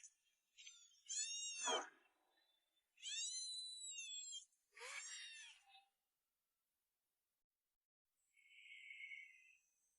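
A white kitten meows in a few drawn-out, wavering cries, close and clear, followed after a pause by a fainter high squeak.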